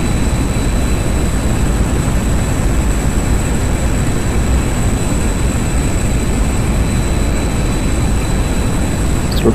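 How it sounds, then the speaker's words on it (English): A MiG-21bis jet in the DCS World flight simulator roars on afterburner during its takeoff roll, a loud, constant engine rumble with a high steady whine and no talking. "Throttle to afterburner and release."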